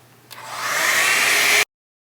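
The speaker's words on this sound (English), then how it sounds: "just take my blow dryer on a cool setting and dry this hairline" A blow dryer on its cool setting dries the hairline of a wig, switching on with a rising whoosh and then blowing steadily and loudly up close before stopping abruptly.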